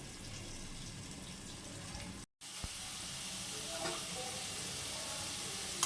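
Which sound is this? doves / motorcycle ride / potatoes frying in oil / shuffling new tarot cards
potatoes frying in oil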